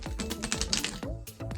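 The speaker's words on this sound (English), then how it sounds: "a couple more shuffles, and then simply give them a quick cut" A deck of playing cards is riffled and shuffled by hand in a close, quick run of dense papery flutters and taps with short gaps, no voice heard.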